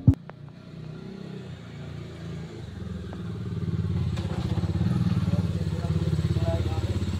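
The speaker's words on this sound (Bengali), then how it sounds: "বাইক আসছে" A motorcycle draws near, its engine note rising into a loud, steady throb, with a sharp knock at the start and some talk in the background.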